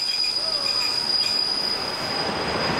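A light 230G 353 steam locomotive train runs steadily close by, its wheels squealing on the rails in a continuous high-pitched screech over a broad rumbling rail noise.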